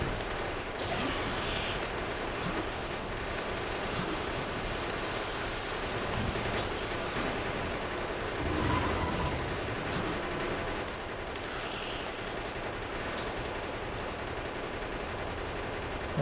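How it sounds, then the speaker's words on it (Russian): Automatic gun turret firing in Factorio, a steady dense stream of rapid gunfire sounds continuing throughout, loud and alone with no talk. "я стреляю, пушка стреляет."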